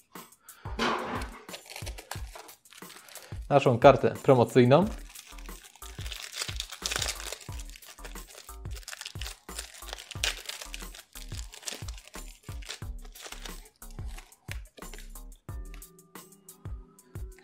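Paper wrapping from a Magic: The Gathering Kaladesh gift box crinkles and crunches in a loud, dense burst partway through, with lighter rustles and handling noises scattered around it and a brief spoken line.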